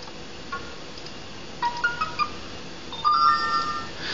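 Notification chimes played from an ODROID-U2 single-board computer, a few short, faint electronic tones and blips in quick succession over quiet background hiss.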